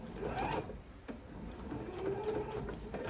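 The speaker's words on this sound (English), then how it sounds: "I've had my machine back and forth between doing regular straight stitching and 1/4 of an inch" A sewing machine runs continuously at close range, a fast, even mechanical whir and chatter as it stitches the seam of an oven mitt, with one brief pause in speed partway through.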